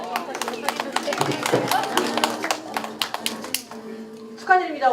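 Audience clapping at an admission information session in Songpa, a dense patter of hand claps running throughout with voices talking over it and a louder burst near the end.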